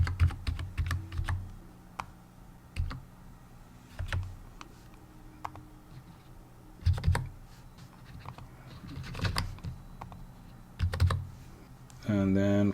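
Keys clatter on a computer keyboard in short irregular bursts while someone enters address details into a form, with soft clicks spread across the clip and a brief louder rattle near the end.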